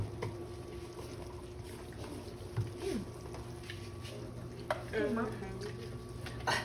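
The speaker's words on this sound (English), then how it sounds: "I'm going to add chicken broth or water to it to let it simmer off" Food simmers in chicken broth in a pan with a steady bubbling sizzle, broken by a few stirring clanks and scrapes, while a voice is faintly heard now and then.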